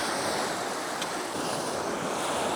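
Continuous surf rushes and hisses close by, waves washing in without pause, with wind buffeting the microphone.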